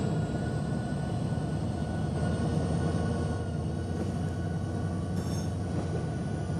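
A train runs in the video game Rails Unlimited: a continuous rumbling roll with a steady drone and faint high whine, even and unbroken with no talk.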